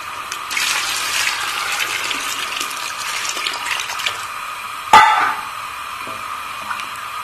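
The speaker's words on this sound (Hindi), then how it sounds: "अभी शोरबे के लिए इसमें पानी डाल दूंगी" Water poured into a pot of mutton and potato curry to make the gravy, a steady gushing splash with a sharp clink of a vessel partway through.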